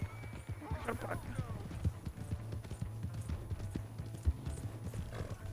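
Horse hooves clip-clop at a steady trot in Red Dead Redemption 2, with an occasional whinny, under a low game ambience and background voices.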